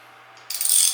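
A ratchet tightening a 5/16 bolt on a handlebar riser of a 2019 Suzuki Hayabusa, a quick run of close, bright metallic clicks breaking in after a quiet moment.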